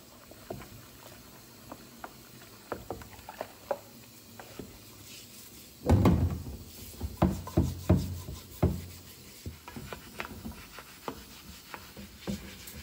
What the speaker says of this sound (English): So I'm gonna give it a good scrub with this scrub brush.